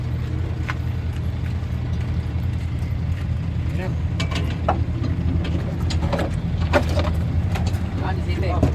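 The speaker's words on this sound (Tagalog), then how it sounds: "Engine." A car engine, on a vehicle with a manual transmission, runs with a steady low rumble, while someone talks over it and scattered clicks sound nearby.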